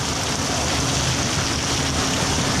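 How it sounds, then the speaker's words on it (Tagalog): Heavy morning rain pours down in a steady, unbroken hiss that fills the space evenly and loudly throughout, with no voices and no pauses. "Grabe, lakas ng ulan dito sa amin."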